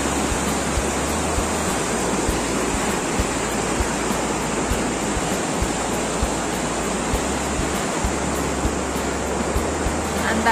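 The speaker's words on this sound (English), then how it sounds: "This is the Parvati River flowing." The Parvati River rushes past near Kasol and Manikaran, a steady, dense broadband roar of fast water that holds constant and loud throughout with no break or voices.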